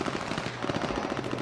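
Rapid automatic gunfire in the battle royale game H1Z1, a dense stream of evenly spaced shots that stays loud and continuous throughout.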